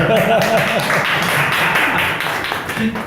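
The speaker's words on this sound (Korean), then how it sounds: "박수 한번 치십시오" A lecture-hall audience claps together in a dense, steady burst of applause lasting about three seconds, fading slightly toward the end, with some voices mixed in.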